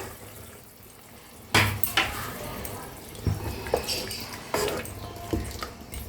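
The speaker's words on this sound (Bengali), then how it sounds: "আমি আরেকটু জল দিলাম।" Water pours into a pot of chicken soup, set off by several sharp clinks of a pot and utensils over a steady low splash, all close by.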